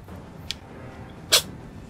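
A cat-like creature in the video game Elden Ring gives two short, sharp sneezes, a faint one followed by a louder one, over quiet background ambience.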